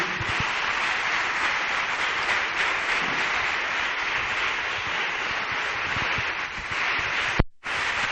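A synagogue congregation claps steadily and loudly in unison, a dense continuous wash of palms that runs on for several seconds before a brief break near the end.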